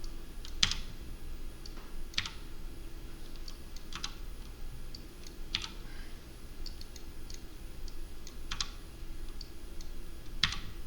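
Code being typed on a computer keyboard, with scattered bursts of key clicks spaced a few seconds apart over a low steady background hum, close and fairly quiet with no talking.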